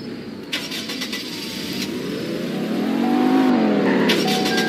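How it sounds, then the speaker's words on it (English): A car engine in the Roblox game Greenville cranks and starts, then revs up steadily with a rising, strained tone, loud and close, with no talking over it. "And I'll be driving this car."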